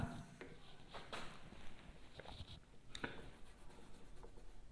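Pen scratching on paper while a maths solution is written out, with short strokes and pauses coming close and quiet and no talking over them.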